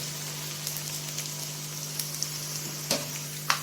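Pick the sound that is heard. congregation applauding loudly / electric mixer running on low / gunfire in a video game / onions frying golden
onions frying golden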